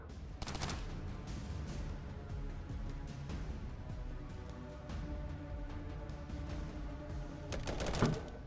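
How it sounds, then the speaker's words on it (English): Gunfire in the Colony Ship role-playing game, sharp shots standing out against steady background game noise, with a louder burst near the end. "She fired a reaction shot."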